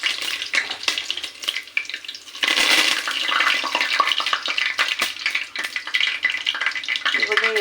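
Curry leaves and mustard seeds hit hot oil in a pan for a methi pulao, a loud, continuous crackling sizzle with bursts of spitting and stirring scrapes.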